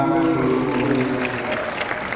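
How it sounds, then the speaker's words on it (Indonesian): A crowd applauds, dense steady clapping throughout with a faint murmur of voices beneath. "Tepuk tangan."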